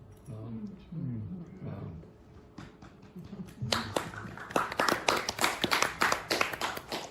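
A speaking voice reads poetry, then an audience at the reading breaks into brisk, close hand-clapping that grows louder and continues to the end.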